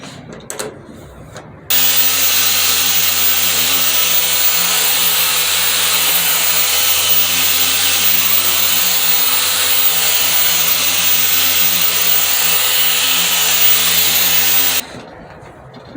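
A power tool polishes a restored metal toolbox with its handles removed, running loud and steady at constant speed for about thirteen seconds, then cutting off abruptly.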